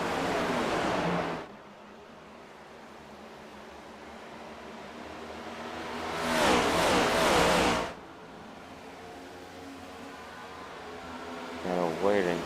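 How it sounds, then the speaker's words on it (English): Next-generation stock-style race cars in a sim racing game at Nashville, engines droning steadily with a loud surge as a car passes close by midway, plus faint whooshing and a brief rise at the end. "please do enjoy the sound of these amazing next-gen cars"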